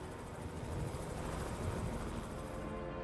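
A helicopter flies over Kilauea volcano in Hawaii, giving a steady, loud, broadband rotor and engine roar that holds level for three seconds with no voices.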